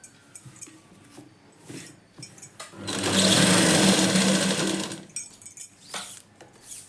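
A sewing machine stitches a readymade chudidar dress in one steady, whirring run of about two seconds, close and fairly loud, framed by quiet handling noises and small clicks before and after.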